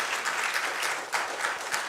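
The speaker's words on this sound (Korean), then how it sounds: "하나님께 영광의 박수를 드리겠습니다." A church congregation applauds during a Sunday service, a dense wash of many hands clapping continuously, near and steady, for about two seconds with no talking.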